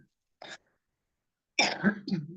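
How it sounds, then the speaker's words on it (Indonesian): A short, sharp cough, then after a pause a person starts talking. "Biasa kalau batuk tuh suka kumat-kumatan."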